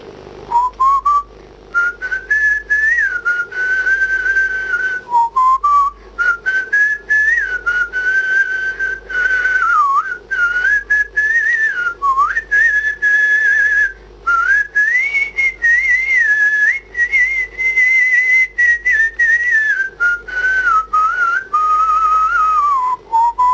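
A man whistles a tune as a performance during a live TV interview, a loud, clear, continuous melodic whistle that wavers and glides between notes for over twenty seconds, with brief pauses for breath and no speech.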